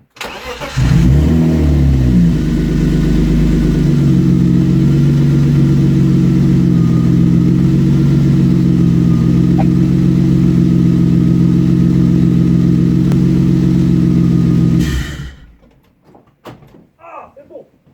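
A BMW E36 drift car engine with a new clutch cranks and catches, then holds a loud, steady rumbling idle with some revving for several seconds before shutting off abruptly.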